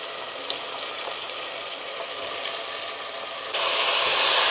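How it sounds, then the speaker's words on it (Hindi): Potatoes and eggplant fry in a pan with tomato, giving a steady hiss and sizzle that swells louder toward the end. "आलू बैंगन डालने के बाद 2 मिनट हम पहले फ्राई करेंगे अच्छे से"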